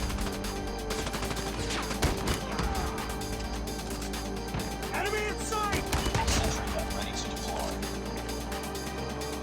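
NA-45 gunfire in COD Mobile comes as sharp, scattered shots and bursts over a busy, continuous bed of game sound and music, at moderate loudness.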